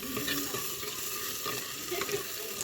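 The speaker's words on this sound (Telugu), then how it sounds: "ఉల్లిగడ్డ పచ్చిమిరకాయలు అయితే వేసాను కదా ఆయిల్లో బాగా మగ్గని అయితే కలిపేస్తాను" Onions and green chillies fry in hot oil, a steady close sizzle with soft stirring scrapes throughout and no voices.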